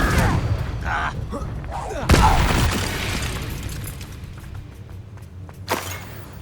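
Confringo blasting spells in Hogwarts Legacy, a series of booming explosive impacts, one sharp loud blast followed by rumbling and a later smaller burst, mixed with combat noise.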